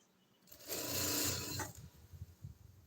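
A sewing machine runs one short, close burst of stitching across two aligned fabric edges for a six-panel kameez, loud and steady for about a second before dropping to quieter handling noise.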